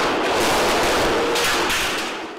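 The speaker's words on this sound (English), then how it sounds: "That's the grenade explosion." A grenade explosion during the drug war in Juárez, Mexico, heard as a loud, roaring, broadband blast with crackling bursts that swells and then slowly fades over two seconds.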